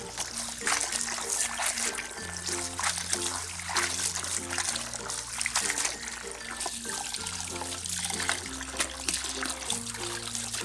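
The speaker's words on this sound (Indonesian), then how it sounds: "selanjutnya pare dibilas lagi dengan menggunakan air dingin" Cold water trickles and splashes continuously as bitter gourd is rinsed, a close, steady pouring sound beneath background music.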